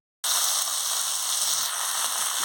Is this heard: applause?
no